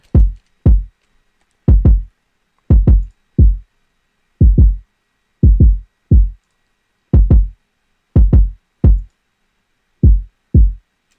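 A punchy kick drum played in a looping beat as an EQ is switched on and off: pairs of deep, boomy thumps with clean silence between, loud and close, with no voices.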